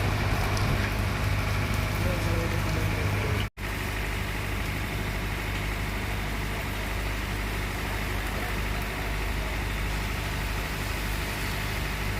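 Light drizzling rain falling outdoors in Ajnala, a steady wash of patter with a faint engine rumble beneath, unbroken apart from one brief cut, with a voice speaking faintly over it.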